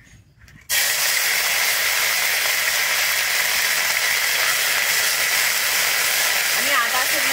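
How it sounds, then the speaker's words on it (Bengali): Ginger and dried chili paste hitting hot mustard oil in a pan, a sudden loud burst of sizzling after a brief quiet moment, then a steady, intense hiss that continues without a break. "এরপরে আমি দিয়ে দিচ্ছি আদা আর শুকনো লঙ্কা বাটাটা।"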